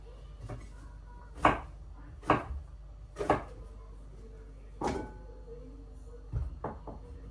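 A knife cuts through a young, tender pumpkin with its peel left on, giving several sharp, separate chops at an uneven pace against a quiet kitchen background.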